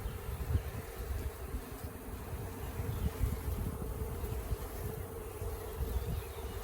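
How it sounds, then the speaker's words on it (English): A dense mass of honeybees in a newly made hive colony gives a steady, close, even buzz that fills the whole stretch without pause, with no voices over it. "Nice lot of bees."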